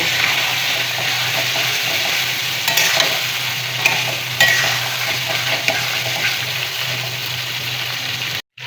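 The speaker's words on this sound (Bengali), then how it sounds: "দিয়ে দেব ভেজে রাখা আলু, মিশিয়ে নেব।" A crab curry with egg and fried potatoes is stirred in a hot pan, giving a steady loud sizzle with scraping and clinking of the spoon throughout and no talk.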